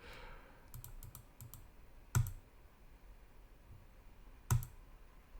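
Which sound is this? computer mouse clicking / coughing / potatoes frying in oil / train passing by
computer mouse clicking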